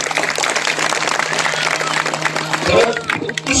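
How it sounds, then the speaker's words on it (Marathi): A kirtan audience claps loudly and steadily in dense, continuous applause for the sound system, with a low electrical hum running underneath. "साऊंड सिस्टीम करता एकदा कडकडून टाळ्या वाजवा."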